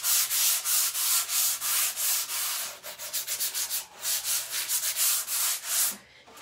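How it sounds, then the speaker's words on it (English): Rhythmic back-and-forth scratchy strokes of hand sanding painted furniture with a sanding pad between coats, close and steady, about two strokes per second, pausing briefly near the end. "I love these for sanding in between coats to get a smooth finish"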